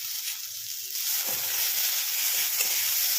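Chopped tomato sizzling and frying in a pan, a steady broadband hiss that grows louder after about one second, with faint stirring taps underneath and no voices.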